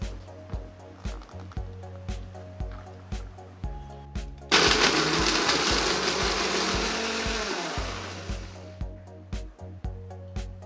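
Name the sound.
blender grinding cashew nuts with water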